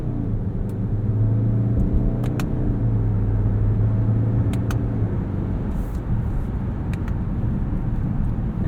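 A 2020 Subaru Ascent Touring accelerating on a road through its simulated gear ratios, heard from inside as a loud, steady engine drone and rumble that rises and drops in pitch with each shift, with no talking.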